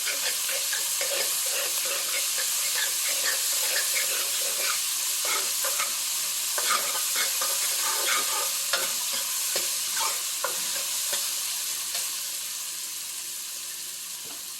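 Ginger garlic paste with fennel seeds sautés in hot oil for hotel-style vada curry, a continuous loud sizzle broken by scraping stirs and small spits, easing slightly toward the end.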